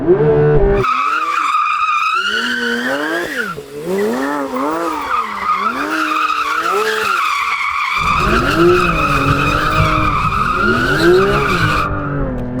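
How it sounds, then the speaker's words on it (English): A Porsche 911 is clutch-kicked, revving hard while its tyres spin and squeal continuously to warm them; loud, close engine wail rises and falls in repeated surges over a steady screech of tyres, with no talking. "Now let's warm up the tyres on the 911. So it's got this feature where you can clutch kick it."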